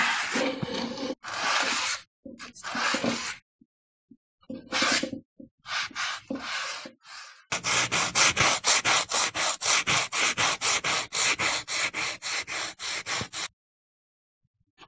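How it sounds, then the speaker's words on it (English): A 30-year-old wooden stool is sanded by hand with sandpaper: a few separate scraping passes, then a long run of quick, even rhythmic strokes, close and loud, with brief pauses between. "The sandpaper might work better, but... If you need to sand it, which you might not."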